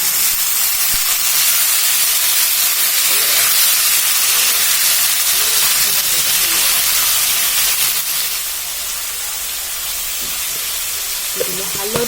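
Potatoes and joha rice flowers drop into hot oil with a loud, continuous sizzle and hiss that stays bright and close, easing slightly toward the end.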